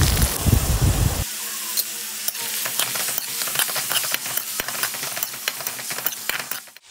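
Shallots, garlic and ginger-garlic paste sauté in a hot pan, with an initial burst of loud sizzling followed by steady frying crackle and repeated sharp scrapes of a spoon stirring, close by and without speech.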